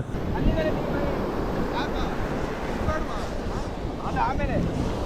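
Sea waves wash in at Maravante beach on the Karnataka coast with steady surf and wind buffeting the microphone, while a boat is nearby and people talk faintly in the background.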